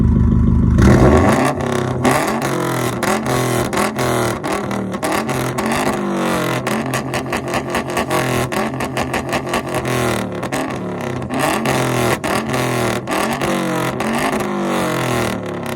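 A catless, straight-piped Subaru STI exhaust revving, loud and close, with repeated rising and falling engine revs and a crackling, raspy edge throughout.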